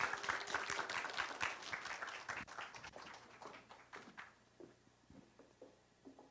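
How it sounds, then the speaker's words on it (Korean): Audience applause after a traditional Korean singing and poetry performance at a book festival in Wonju, with a dense burst of clapping that thins out and fades into scattered claps, alongside faint room noise and brief murmurs. "두 분에게 다시 한번 큰 박수 부탁드립니다"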